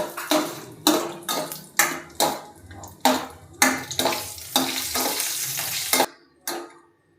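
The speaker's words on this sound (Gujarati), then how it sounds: "હવે આપણે બદામના ટુકડા એડ કરશું અને કાજુના ટુકડા એડ કરશું અને ધીમા ગેસે આપણે ઘીમાં જરીક શેકી લેશું" Almond and cashew pieces stirred in hot ghee in a pan on low flame, a series of sharp scraping strokes of a spoon against metal, about a dozen in quick rhythm over a light sizzle, then quiet.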